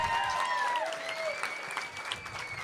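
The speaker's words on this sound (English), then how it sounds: "Give these guys a round of applause, everybody." A comedy club crowd claps and cheers in a steady burst of applause, with a few whoops rising over the clapping.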